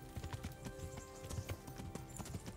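Horse hooves clip-clopping in the medieval video game Kingdom Come: Deliverance, a steady quick trotting rhythm of hoof beats over continuous game ambience and music.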